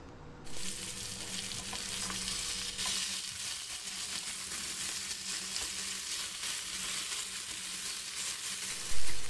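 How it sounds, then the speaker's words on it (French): Seasoned potato pieces fry in a pan over medium heat with a steady, dense sizzle that runs the whole time. Faint scraping of stirring sits in the sizzle, and a short louder burst comes at the very end. "D'abord, je mets la poêle sur feu moyen. Je vais remuer quelques instants."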